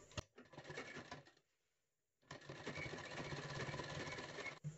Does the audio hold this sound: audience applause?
no